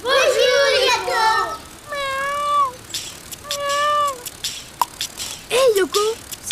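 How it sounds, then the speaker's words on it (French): A small cartoon kitten meows several times in high, wavering cries, loud and close, with a voice briefly mixed in at the start. "C'est le petit chat!"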